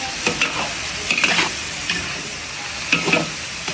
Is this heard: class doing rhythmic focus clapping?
no